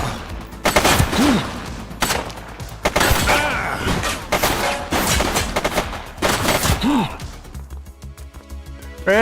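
Rapid bursts of gunfire from The Precinct video game, loud and close, clustered in quick volleys across the clip and mixed with game voices and impacts.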